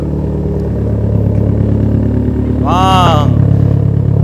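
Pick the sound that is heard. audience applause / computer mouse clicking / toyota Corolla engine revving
toyota Corolla engine revving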